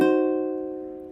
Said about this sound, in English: But it sounds like this. So it's diminished.